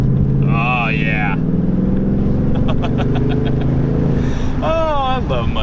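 A 2018 Ford Mustang GT with stock exhaust and lowering springs rumbles steadily through a 90-degree corner, its engine drone loud and constant while someone talks over it.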